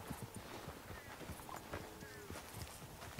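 Horse hooves clip-clopping at an easy walk in the video game Red Dead Redemption 2, a steady soft rhythm of hoofbeats, faint and somewhat distant, with a few light incidental sounds and no clear talk.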